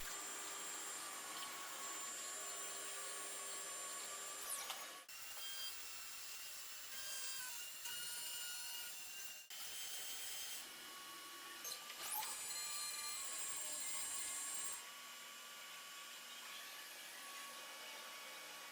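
An Okuma MULTUS B550 multi-function CNC turning center with a B-axis milling head and dual spindles machines steel, giving a steady, loud broadband whir and hiss with brief shifts in tone and a short sharp break partway.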